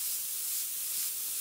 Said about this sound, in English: So I am going to spray another coat